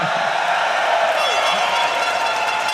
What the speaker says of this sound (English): And what a crowd it has been so far. Nice and loud.